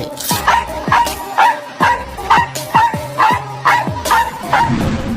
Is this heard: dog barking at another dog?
yes